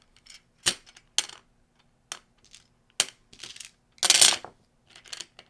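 Heavy purple magnetic dice clicking and clacking together in short sharp bursts, several separate clicks and one longer rattling cluster, close and fairly quiet with no talk.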